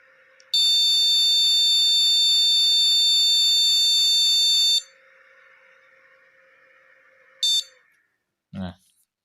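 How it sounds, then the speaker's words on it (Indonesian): A computer motherboard buzzer with no RAM installed gives a loud, long electronic beep lasting several seconds, then a short beep after a pause, over a quiet hum. "tanpa terpasang RAM dia akan berbunyi bip panjang dan berkali-kali"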